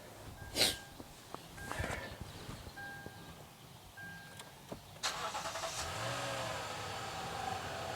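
A Lexus GX460 engine cranks and catches after an oil change, then settles into a steady idle hum, with a few clicks and knocks heard faintly beforehand.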